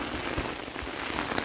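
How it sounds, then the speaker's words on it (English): Hail pelts a backpacking tent during a major hailstorm on the Pacific Crest Trail, a dense, continuous close patter of hard pellets on fabric. "Major hailstorm. But my tent slides."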